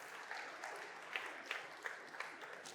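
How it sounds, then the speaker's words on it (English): Audience applause at a startup pitch competition, a fairly quiet, sustained patter of clapping from a crowd, with a few sharper individual claps standing out. "Big applause for him"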